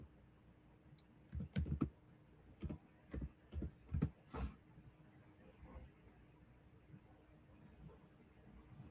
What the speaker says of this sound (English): So CPR. I'm gonna type that in here.